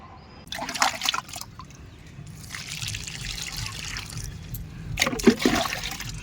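Water poured from a mug, one of three mugfuls measured into a large drum while preparing a liquid plant nutrient solution; a trickling, splashing pour comes in two bursts, near and moderately loud, with quieter running water between.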